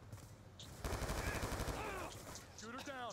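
Rapid bursts of automatic gunfire in a shooter video game, loud and dense for about a second and then trailing off, with a voice talking over the shots.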